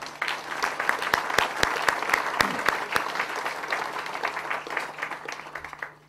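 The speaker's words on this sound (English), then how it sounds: "So could we give a round of applause, please, for Group Server?" Applause from the audience at an open source awards ceremony, a steady wash of many hands clapping with a few sharp, close individual claps standing out, continuing evenly throughout.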